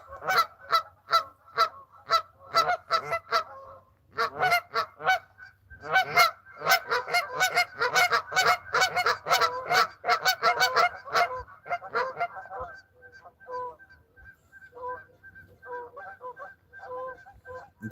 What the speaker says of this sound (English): Check out these geese right here next to me